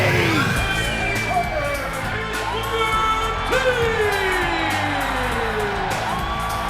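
A TNA wrestling arena crowd roars and whoops for Booker T, loud and continuous, with high shouts and whistles over a dense wall of cheering and occasional bangs.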